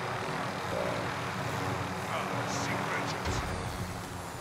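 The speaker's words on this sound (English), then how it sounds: "There's this chopper." Helicopter in a video game, heard as a steady, loud rotor and engine drone that holds through the whole moment, with a voice talking over it.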